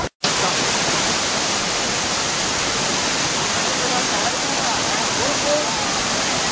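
The Pearl Shoal waterfall at Jiuzhaigou thunders as a dense, steady rush of falling water, loud and close, continuous after a brief cut at the very start.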